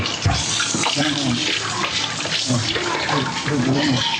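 Water running steadily from a tap, a continuous hissing splash that fills the whole stretch, with voices talking faintly underneath.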